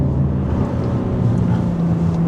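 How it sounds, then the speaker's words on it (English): A 2025 BMW M3 Competition engine held high in the revs gives a loud, steady, droning roar with a strong low hum throughout, with no talking. "Man, it gets a little bit more lively in the high revs."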